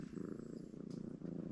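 A cat purrs close and soft in a quick, steady rhythm of rumbling pulses, alone and uninterrupted.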